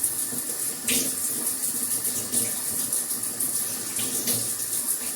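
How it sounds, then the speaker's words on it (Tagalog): Water from a kitchen sink tap runs in a steady hissing stream, close and fairly loud, with a few brief splashes and shifts in flow as things are moved under it. "bukas lang ako sa lababo guys."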